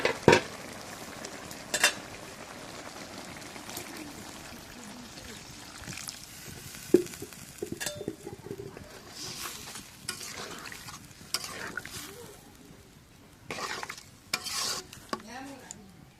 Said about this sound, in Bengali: মিষ্টি কুমড়োটা কষানো হয়ে গেছে, একটু তেলে ফেলে দিয়ে দিই